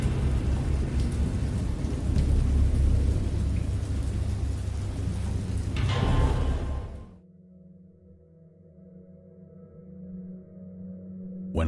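A thunderstorm in the video game Dagon: heavy, steady rain with deep thunder rumbling, loud for about seven seconds before cutting abruptly to a low, quiet hum.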